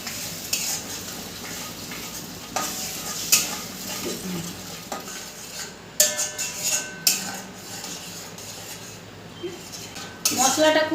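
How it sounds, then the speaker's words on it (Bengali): A spoon scrapes and stirs chopped tomato, turmeric and spices in a sizzling pan, with irregular metallic clinks and scrapes over a low frying hiss. "দিয়ে মশলাটাকে খুব ভালো করে কষিয়ে নেব।"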